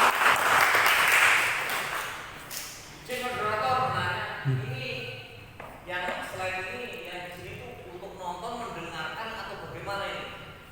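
Residents at a neighbourhood community dialogue clap in a short, strong burst that fades after a couple of seconds, followed by someone talking into a microphone.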